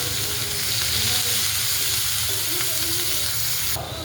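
Cumin, crushed garlic and finely chopped onion fry in a pan, giving a loud, dense, continuous sizzle close up, with a light stir near the end and no talk.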